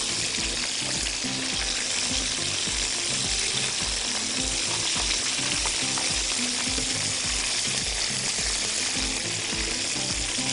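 Breaded fish fillet for a fried fillet sandwich frying in hot oil, a steady, dense sizzle and crackle that runs unbroken throughout, close and fairly loud, with no one speaking.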